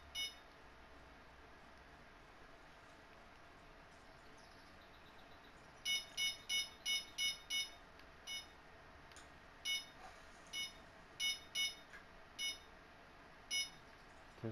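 Electronic bite alarms on carp rods in the Fishing Planet video game, set in England, chirp in repeated short high beeps, first a quick run of six then scattered single beeps over a steady faint background hum.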